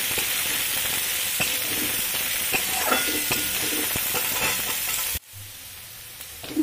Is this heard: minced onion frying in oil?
yes